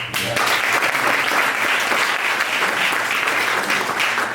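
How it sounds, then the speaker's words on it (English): An audience at a talk breaks into a round of applause, a dense, steady wash of many hands clapping close and loud for the whole stretch, with no voices over it. "everybody gets a round of applause for being involved in these"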